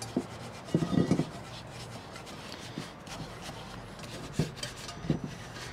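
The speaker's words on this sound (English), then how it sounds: "I just keep taking it and rubbing it into that cast iron there" Seasoning cream rubbed by gloved hand into a cast iron Lodge camp Dutch oven, giving soft intermittent scuffing strokes with a few louder rasping bursts, close and fairly quiet.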